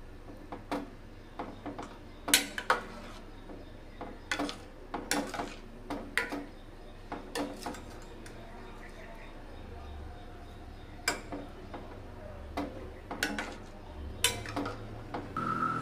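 Tamarind broth being stirred in a cooking pot for a taro curry, giving sharp intermittent metal clinks and scrapes of a spoon against the pot, spaced irregularly over a quiet background.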